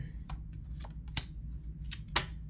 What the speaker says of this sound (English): I just think that was the shuffle